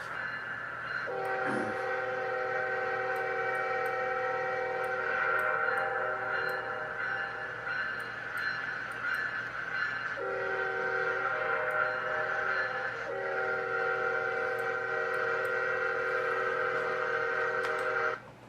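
Trains roll through the Trainz railroad simulator on an Indianapolis to Lebanon, Indiana route, with long sustained horn blasts sounding repeatedly over a steady rumble of rail traffic, no voices.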